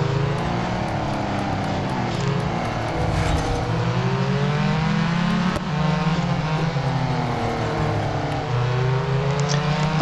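Race cars in the mobile racing game Real Racing 3 roar around the track, layered engine tones rising and falling in pitch as they accelerate and shift, loud and continuous without any talking.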